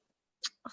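A single sneeze in a public meeting, a short sharp burst followed by a breathy release, fairly faint and heard alone.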